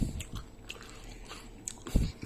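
Boiled baobab seeds being chewed up close, with crunchy bites near the start and again near the end and quieter mouth sounds between them, and no talking.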